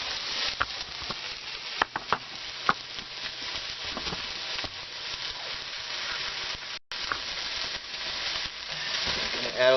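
Food sizzles hard and steadily in a wok over a Silverfire Hunter biomass stove, a dense crackling hiss with occasional pops and stirring scrapes, close and continuous.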